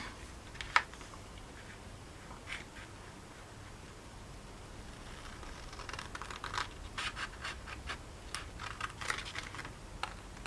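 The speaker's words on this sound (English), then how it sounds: "And then I'm going to cut this corner." Paper cardstock being cut at the corner while making a shadow box frame card, giving faint, close scratchy snips that cluster into a quicker run of crisp cuts in the latter half, with no talking.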